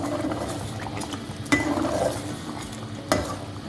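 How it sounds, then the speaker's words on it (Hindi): Mutton korma stirred and fried in a pot, a steady low sizzle with scraping spoon strokes and two sharp metallic knocks against the pot, no voices. "थोड़ा सा हम इसको और भूनेंगे पानी के थोड़ा सा खुश्क होने तक"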